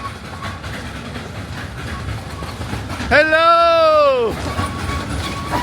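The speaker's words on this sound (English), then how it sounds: "Here's the train." A small park train passes at Iguazú Falls and sounds one drawn-out horn blast of about a second, loud and close over outdoor ambience, with people talking nearby.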